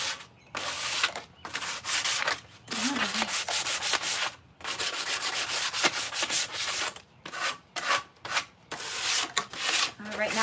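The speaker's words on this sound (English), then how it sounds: "So just go ahead and sand that down." Rhythmic back-and-forth sanding on a wooden hawk perch, close and fairly loud, in repeated strokes separated by brief pauses, with no voices over it.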